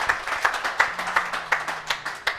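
A small group at a boys' varsity basketball coaches show gives a brief round of applause: sparse, evenly spaced claps, about seven distinct hits in quick rhythm, close by and fairly loud with no talk.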